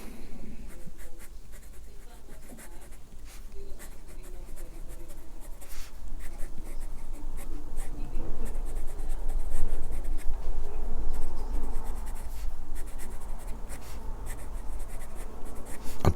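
Sailor fountain pen with a fine steel nib scratching across paper in continuous strokes, close and fairly loud, with a faint hum underneath.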